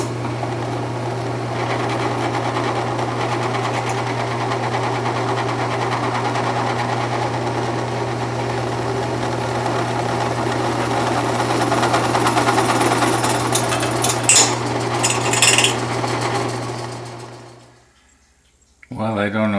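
A drill bit grinds through a steel weld with a steady, close, high-pitched motor whine and a constant hum, gaining some rattling chatter near the end before it abruptly stops.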